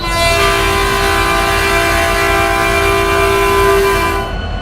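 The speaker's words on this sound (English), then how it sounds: "this is going to be a train horn" Locomotive horn in the Roblox game RO Scale Sandbox, one loud sustained chord blown continuously for about four seconds, close and alone, then cutting off.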